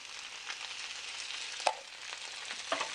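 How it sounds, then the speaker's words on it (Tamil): Vegetables for veg noodles stir-fry in a pan, a soft continuous sizzle close by with a couple of brief utensil clinks. "நல்லா வெஜிடபிள்ஸ்லாம் ஃப்ரை ஆகிடுது"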